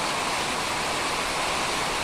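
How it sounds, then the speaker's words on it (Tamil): Heavy rain pours down in an evening downpour, a dense, loud and steady hiss with no pauses and no voices. "இது ஃபுல்லா அங்க பாருங்க மழை, பயங்கர மழை பெய்யுதுங்க, சரியான மழை"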